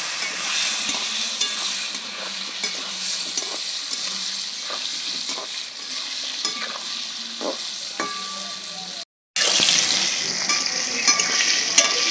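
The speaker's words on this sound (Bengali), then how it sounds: "সামান্য একটু হলুদ দিয়ে দিচ্ছি নুন পটলগুলো লাল করে ভেজে নেবো" Pointed gourd (potol) pieces fry in hot oil with turmeric and salt, giving a steady close sizzle broken by light stirring scrapes, with a brief cut to silence near the end.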